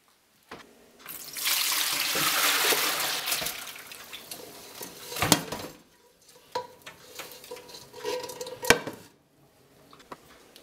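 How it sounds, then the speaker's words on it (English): Cooked spaghetti pours into a strainer in a sink, a broad watery rush for a couple of seconds followed by scattered clanks of pot and metal strainer, close by with no talk. "you're gonna strain your spaghetti into a strainer"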